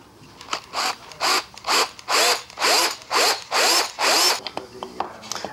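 A power drill drives a screw into wood in about eight short whirring bursts with brief pauses between them, close and loud, with no talking.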